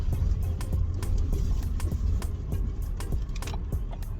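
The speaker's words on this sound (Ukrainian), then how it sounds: "зараз по поганій дорозі я от їду" Interior of a 2015 Ford Focus SE with 2.0 automatic driving over a rough road: steady low road rumble with repeated sharp knocks and thuds from the suspension hitting bumps, continuous and fairly loud.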